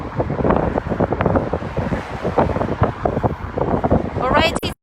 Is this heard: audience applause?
no